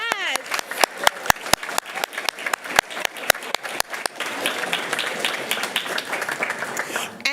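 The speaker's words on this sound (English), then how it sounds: "Another round of applause." A school board meeting audience applauds a recognition, starting with a few sharp, separate claps near the microphone over a brief voice, then swelling into fuller, denser crowd applause that holds to the end.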